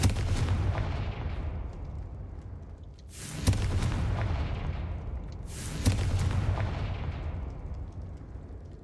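A Confringo fire spell goes off in Hogwarts Legacy, with two heavy booming blasts a few seconds apart, each followed by a long fading rumble over a low continuous background.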